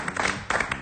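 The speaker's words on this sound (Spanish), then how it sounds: "Fuerte aplauso al señor Jorge Cosia." Brief scattered clapping from a studio audience greets a guest on a public-affairs talk show, a few uneven bursts of hands lasting under a second.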